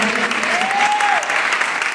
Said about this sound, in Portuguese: As palmas glorificam o nome do Senhor Jesus